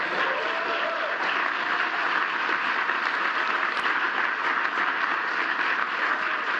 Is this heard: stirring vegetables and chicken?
no